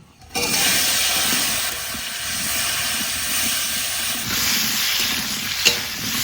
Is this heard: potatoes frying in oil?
yes